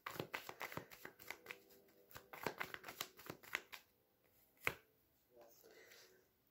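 Tarot cards riffle and snap in a quick, rapid series close up, then slow to a few separate flicks and a soft slide near the end.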